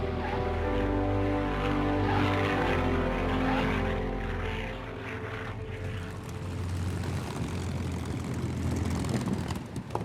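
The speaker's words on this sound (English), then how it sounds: "It's been a remarkable experience to be in this historic aircraft with Mike, one I'll treasure for a long time" A historic North American P-51 Mustang's engine and propeller drone steadily and loudly from inside the aircraft, the tone shifting and thinning partway through.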